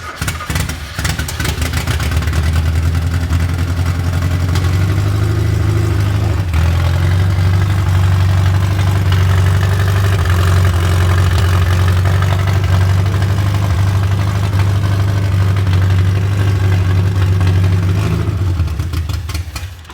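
A Mazda pickup engine idling steadily and loud up close, a deep continuous rumble with a brief dip in revs partway through before settling back into an even idle.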